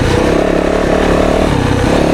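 A 2024 Yamaha YZ 450FX dirt bike engine revs loud and close, a dense continuous roar with slight pitch shifts during a woods ride, no talking.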